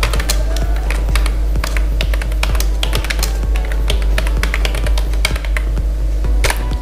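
Rapid keystrokes on a computer keyboard while text is typed into Microsoft Word, a dense run of sharp clicks at close range over a steady low hum.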